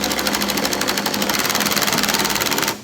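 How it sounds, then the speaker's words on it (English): An impact wrench runs up close, driving nuts down slowly on a fuel cell in a 1975 Bob Trostle super modified race car, a loud, steady rapid hammering rattle that holds for almost three seconds and then stops abruptly. "We'll take our impact wrench now and use it to pull it up real slow."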